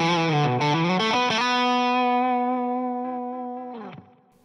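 An electric guitar plays a solo phrase with quick bends into unison approach notes, then holds a long sustained note that slowly fades before a final muted pluck, played alone with effects and slight distortion.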